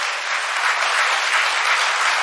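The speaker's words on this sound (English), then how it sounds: "A round of applause" A ceremonial audience gives dense, even applause for a Jonkanu group and band at the opening ceremony of a Caribbean chief justices' conference, the many hands blending into a continuous close wash.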